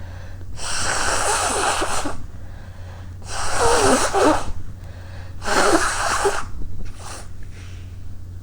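A person lets out three big, forceful sneezes, each a loud breathy burst lasting over a second, with a smaller fourth burst and heavy breathing in the pauses, all close to the mic.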